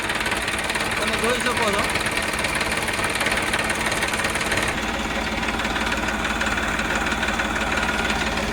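An Eicher 333 tractor engine idles steadily nearby with a constant low rumble and faint knocking throughout, while someone talks over it.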